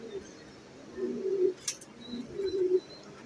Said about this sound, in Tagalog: Siya yung muling ibon natin dumating.